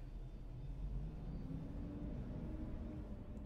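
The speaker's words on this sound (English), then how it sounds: "I think the garbage truck is outside right now." A low, steady engine rumble from a garbage truck idling outside, muffled and constant for the whole stretch, with no voices.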